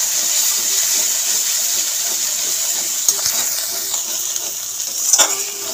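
Ginger, green chili paste and turmeric fry in a pan, a steady close sizzle with occasional scraping taps and a brief clatter of utensil against pan near the end.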